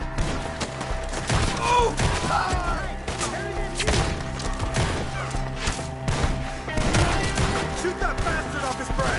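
Gunfire in the Red Dead Redemption 2 video game, repeated sharp shots and thuds in irregular bursts at varying distances, with shouting voices and a brief exclamation over the shooting.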